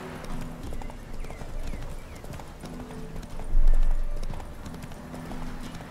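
Horse hooves clip-clop in a steady galloping rhythm while riding in The Witcher 3, with the game's ambient music underneath and a brief louder swell partway through.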